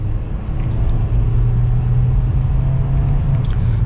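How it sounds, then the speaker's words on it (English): A 2022 Nissan Kicks SV accelerating from inside the cabin, a steady loud engine drone and road rumble that holds evenly throughout. "And we'll give it some gas here."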